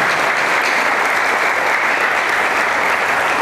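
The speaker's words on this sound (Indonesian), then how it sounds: "Sekali lagi tepuk tangan buat beliau." A crowd at an Islamic boarding school for orphans breaks into loud, dense applause, a thick continuous wash of clapping that stays at full strength throughout.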